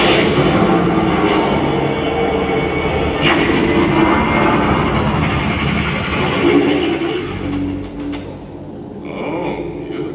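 A starship takes off in a Star Wars film scene, a loud, steady engine roar with a rising whine and rumble that swells and then settles, heard alone for about ten seconds.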